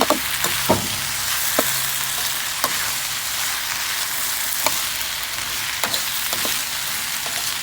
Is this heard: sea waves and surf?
no